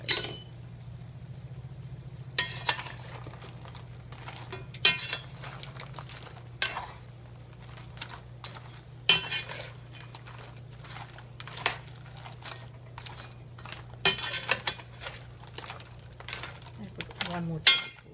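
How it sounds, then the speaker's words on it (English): A spoon mixes curry powder into simmering crab curry, giving scattered light metallic clinks and scrapes against the pot over a low steady hum. "And we're going to mix this up."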